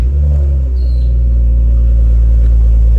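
BMW N55 engine idling just after a downpipe install, a loud, steady low rumble with a constant deep hum and no revving, close by.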